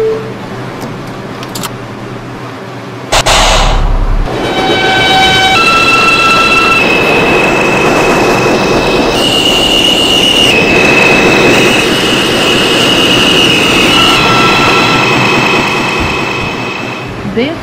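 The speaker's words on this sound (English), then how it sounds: "This is a Brooklyn College, Flatbush Avenue bound, 5 train." A New York City subway 5 train bound for Brooklyn College–Flatbush Avenue starts with a loud rush, then runs with a steady rumble, rising motor whine tones and high wheel squeals, loud and close throughout.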